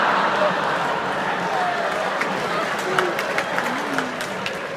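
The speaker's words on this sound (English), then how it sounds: "most of the people who drove are clapping" Audience at a stand-up comedy show clapping, a broad steady wash of applause and crowd noise with a few sharper claps standing out, while the comedian keeps talking over it.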